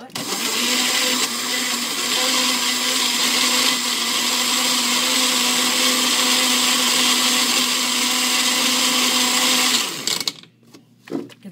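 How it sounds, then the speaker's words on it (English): A Magic Bullet blender whirring steadily as it mixes a shake, loud and close with a constant motor whine for about ten seconds before cutting off, followed by faint handling sounds. "Pop that on the magic bullet."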